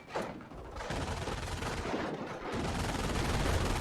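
Grenades burst and gunfire rattles in an Axis-versus-Allies shooter video game, forming a dense, loud, continuous barrage of overlapping blasts with a short lull just before the firing resumes.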